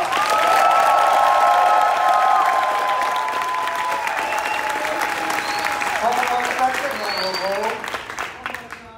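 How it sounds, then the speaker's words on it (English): A studio audience at a behind-the-scenes taping of Ridiculousness applauds and cheers loudly, a bright sustained roar with whistles and shouts that slowly thins into scattered clapping and tapers off near the end. "5, 4, 3, applause."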